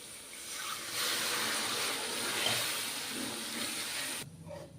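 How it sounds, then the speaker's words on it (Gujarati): Water splashes into a hot pan of oil and drumsticks with a loud hissing sizzle that swells, holds steady, then cuts off abruptly. "તો આપણે આમાં પાણી એડ કરી દઈશું સરગવાને પાકવા માટે"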